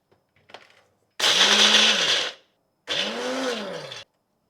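A mixer grinder coarsely grinds fried coriander and cumin seeds for a village-style tomato green chilli chutney, running in two loud whirring bursts of about a second each with a short pause between them.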